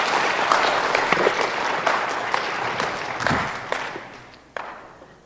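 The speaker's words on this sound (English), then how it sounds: "Round of applause for my lovely friend." A church congregation applauds at a Sunday kids' service: dense, loud clapping that gradually thins and fades out toward the end, with a few last isolated claps.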